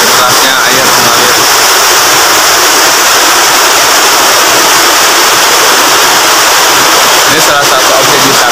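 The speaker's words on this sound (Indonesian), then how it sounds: "Mungkin kerasnya air mengalir." Curug Pareang waterfall in Jampang Tengah, Sukabumi, rushing water heard up close as a loud, steady, unbroken roar that fills the whole scene with no letup.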